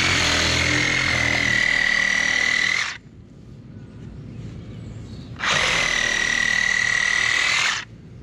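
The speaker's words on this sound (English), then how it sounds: "We're just going to use our sawzall, and you can use a handsaw, whatever you want, and we just cut it down to the ground." A reciprocating saw cuts through expanding foam around a fence post in two loud, buzzing bursts of about three seconds each, separated by a pause of quieter background.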